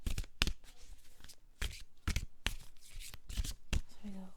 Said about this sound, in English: I'm going to pick out 4 cards for you and pick 1 card